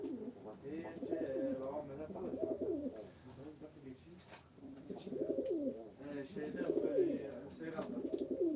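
Pigeons coo steadily at a live pigeon auction of game birds, soft repeated throaty calls in bursts while someone talks over them throughout.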